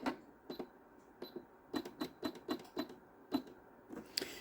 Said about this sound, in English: now I'm going to use a serpentine stitch